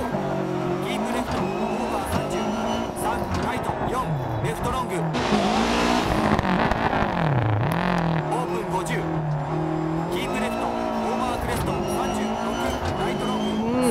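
A 350-horsepower Lancia Group A rally car revs hard and shifts gears through a stage in a realistic racing simulator, its engine loud and continuous, with tyre noise and a voice talking over it.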